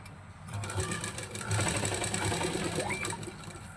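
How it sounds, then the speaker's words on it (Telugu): A sewing machine runs steadily while stitching a baby frock's fabric from one corner to the other, a continuous close hum with no talking. "ఒక స్టిచ్ చేసుకుందాం కార్నర్కి"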